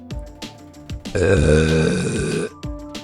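A single long, loud, drawn-out burp with a deep rumbling tone, set between short bursts of sound before and after.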